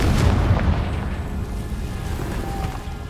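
A Confringo fire-blast spell in the Hogwarts Legacy video game lands as a loud, close booming explosion that rumbles and slowly fades into a low roar.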